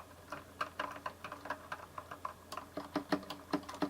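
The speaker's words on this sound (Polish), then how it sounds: "Jeśli piszemy szybko, to oczywiście jak to mechanik jest głośna" Rapid clicking of mechanical keyboard keys on a Bloody B740A, a steady irregular patter of keystrokes heard close up with no voices.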